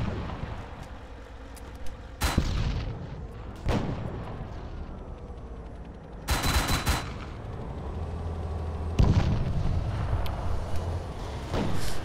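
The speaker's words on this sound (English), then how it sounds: "He's shooting the gun." Gunfire and artillery-like blasts in the video game Arma 3, a few loud separate bursts spread across a rumbling battlefield background with no talk.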